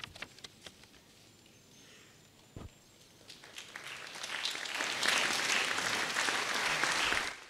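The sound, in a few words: congregation applauding in church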